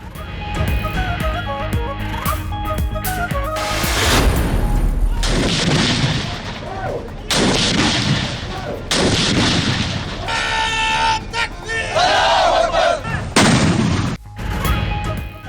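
Cannons fire a ceremonial salute for Pakistan Independence Day on 14 August 2019, with 31 rounds in the federal capital and 21 in each provincial capital. Heavy booms come one after another, each with a long rolling decay, amid crowd and ambient noise.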